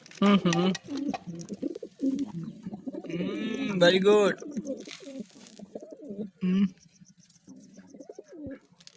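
An English pigeon coos softly a few times close by, mixed in with someone talking and some handling noise.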